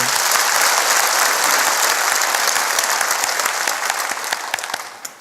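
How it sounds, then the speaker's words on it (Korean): A church congregation claps loudly after a hymn, a thick, sustained burst of many hands at close range that thins into scattered individual claps toward the end. "박수 칠려면 크게 박수합시다"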